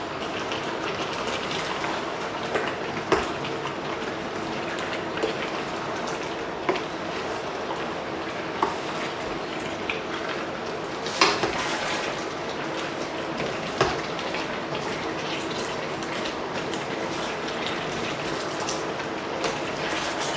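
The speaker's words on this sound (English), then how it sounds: "Stir fry all the ingredients up until the sauce and the sauce is starting to boil up." Lamb stew ingredients for a Cantonese dish stir fry in bubbling sauce, giving a steady close sizzle and crackle with occasional scraping clicks from stirring, and no talk.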